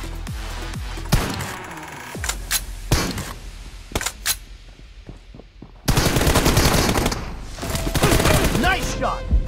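Bursts of gunfire from a mobile TDM shooter video game, with rapid automatic volleys and single cracks coming in uneven clusters, loud and close, with dense sustained firing in the second half.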